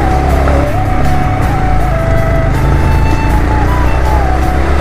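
A Yamaha MT 15 motorcycle climbs a steep hill road near Chatakpur in the Darjeeling hills, its engine loud and close with a sustained strained drone whose pitch shifts slightly as it labours upward.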